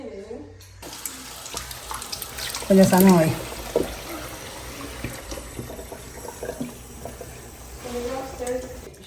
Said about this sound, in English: She's putting water inside the intestine so that way it can clean really good.